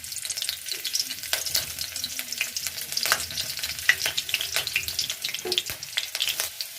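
Chopped green chilies frying in hot oil, a crackling sizzle with frequent sharp pops and spatters over a steady hiss, close and moderately loud, with no speech.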